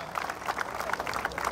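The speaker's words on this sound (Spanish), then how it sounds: "Para ella ese fuerte aplauso." Audience applause for a congresswoman at a swearing-in ceremony for a regional governor in Ica, a steady wash of many hands clapping throughout, moderately loud and without pauses.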